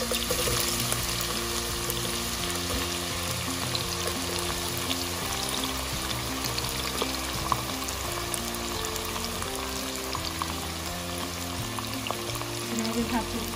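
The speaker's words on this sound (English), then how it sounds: "Now we have to fry the onions till they are nice and brown." Onions frying in oil in a pan for chicken biryani, giving a steady, dense sizzle and crackle that runs unbroken and close, with a faint low hum beneath and no talk.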